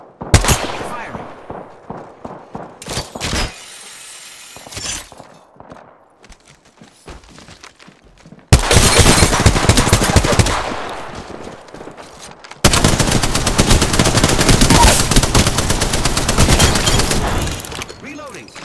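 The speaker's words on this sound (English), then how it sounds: "Firing." Bursts of rapid automatic gunfire in the Apex Legends video game, loud and close, with short choppy volleys early on, then two long sustained stretches of heavy firing.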